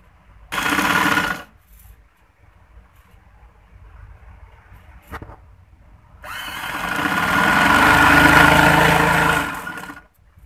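A sewing machine stitches lace onto a kaliyon-style lehenga in two bursts: a short run early on and a longer, steady whirring run near the end, separated by quiet pauses.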